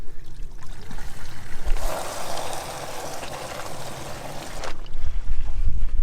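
Water gushes into a bladder-style water tank aboard a sailboat. A hissing rush starts abruptly, runs steadily for about three seconds and then cuts off, with low boat and wind rumble around it.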